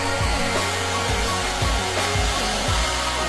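A hair dryer blows loud and steady from start to finish, with a low rhythmic thumping running beneath the airflow.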